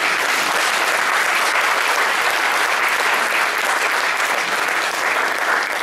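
A church congregation bursts into sustained applause after a call to acclaim the Lord Jesus, dense, steady clapping filling the room without pause and no voices standing out above it.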